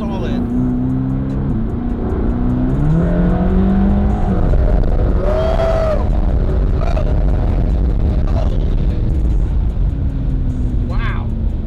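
A Mercedes-AMG GT Black Series P One Edition drives along, its loud engine droning steadily from inside the car with shifting pitch as it accelerates, while people talk over it.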